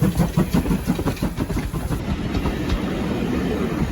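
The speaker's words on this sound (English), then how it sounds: "The last 3 cars in this train contain the coal that actually the engine uses to produce steam." A steam train rolls along tracks beside the River Dart at Kingswear, with loud, close rhythmic clickety-clack of wheels over rail joints giving way to a steady rumbling rush.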